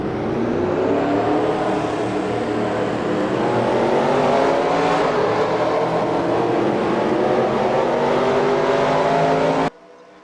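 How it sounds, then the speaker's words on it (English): Loud race car engines roar together continuously in a video game race start, a dense rumbling drone that swells slightly before cutting off abruptly near the end. "Drivers, start your engines!"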